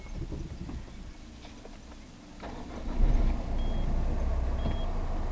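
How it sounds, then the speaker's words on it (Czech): A car engine cranks and catches about midway, jumping to a louder, low steady idle after a quieter stretch of ambient noise. "Takže nastartujeme auto."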